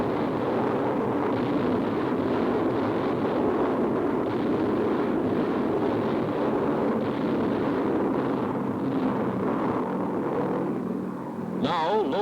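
Delayed-action bombs from low-flying B-25s pound Japanese positions in a 1943 WWII air raid, heard as a steady, dense roar of rumbling blasts and engine drone under narration, with a short sharp burst near the end.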